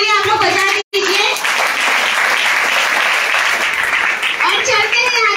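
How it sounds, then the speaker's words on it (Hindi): A crowded hall bursts into loud, sustained audience clapping, a thick continuous roar of hands with a brief dropout near the start and voices around the edges. "एक जोरदार ताली आप लोग बजा दीजिए"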